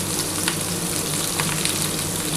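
Sliced onion and whole cumin seeds frying in a pan for a dhaba-style paneer tikka masala, a steady close sizzle with faint crackles spread evenly throughout, no voices.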